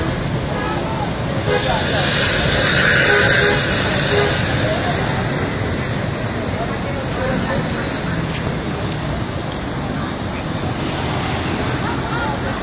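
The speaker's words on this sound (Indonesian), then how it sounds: "Inilah keadaan terminal Pondok Pinang Lebak Bulus." At the Pondok Pinang Lebak Bulus bus terminal, a steady wash of traffic and engine rumble fills the air, with wind on the microphone and indistinct voices mixed in throughout.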